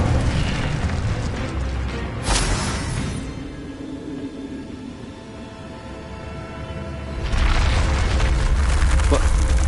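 An Incendio fire spell cast in a Hogwarts video game erupts as a loud roaring burst, fading to a low rumbling hiss before a second fiery surge swells up near the end.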